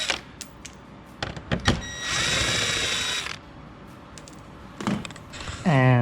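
Torx 25 screws being backed out of a Skoda Superb MK3 fog light: close clicks and a ratcheting, whirring tool burst lasting about a second, then more scattered clicks and a rising mechanical whine at the end.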